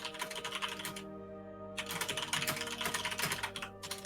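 Loud typing on a computer keyboard clatters in rapid bursts with a brief pause, close and fairly quiet overall over a steady hum.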